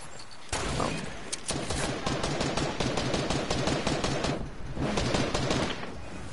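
Dense, rapid gunfire fills a multiplayer shooter match, loud sustained bursts rattling almost continuously with one brief lull before the shooting resumes.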